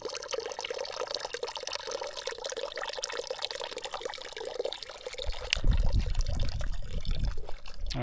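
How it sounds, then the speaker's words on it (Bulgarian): Water trickles and splashes steadily from a small mountain spring beside a trail in the western Stara Planina near Midzhur peak, with the flow growing louder and fuller partway through. No one speaks. "Ето го изворчето и дори на 1 август все още тече вода от него."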